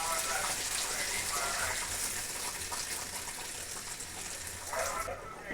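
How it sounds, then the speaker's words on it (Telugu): Water poured from a vessel into a hot tempering for Telugu mango dal, a steady gushing splash lasting several seconds, close and fairly loud, easing briefly before a final spurt. "కొంచెం వాటర్ని ఇందులో వేసేస్తున్నాను ఈ తాలింపులో."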